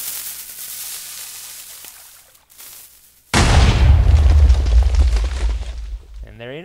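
A Minecraft cannon fires with a sudden loud boom and sustained explosive rumble, following quieter game sounds.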